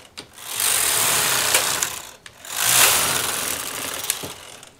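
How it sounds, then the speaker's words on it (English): Knitting machine carriages pushed across the needle bed for circular rows, set one click above zero: two long, loud mechanical rasping passes with clicks at the start and end of each, alone with no talk. "I'm loosening the carriages up to just one click above the zero and setting them for circular knitting."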